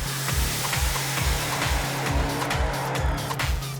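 A nitro funny car launches off the starting line at Meremere Dragway in New Zealand, its engine roaring loud and close. Rapid, pulsing tyre shake and squeal run continuously through the whole launch.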